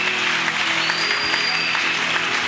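A church congregation at a Sunday service applauds loudly and steadily throughout, a dense wash of clapping with a faint voice or tone above it.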